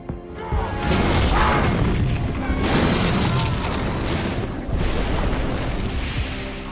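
A heavy film explosion crashes and booms, followed by rumbling debris and clattering impacts that stay loud throughout, with faint voices mixed in.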